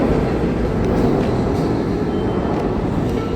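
Steady, loud rumble of a Seoul subway train running through a station, a continuous low roar with faint squealing and rattling on top and no voices.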